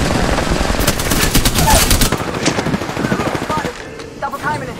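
Rapid bursts of heavy gunfire and explosive fire during an artillery strike in the video game Apex Legends, loud and dense for about two seconds before thinning into scattered shots and softer battlefield noise.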